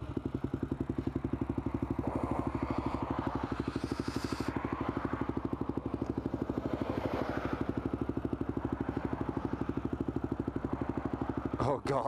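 Cars driving by on a road produce a steady, close engine rumble with a low, even pulse that runs the whole time, ending in a short clatter.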